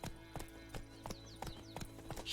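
Roach, the horse in The Witcher video game, clip-clops along in a steady rhythm of evenly spaced hoofbeats, fairly close and clear, with no talk over them.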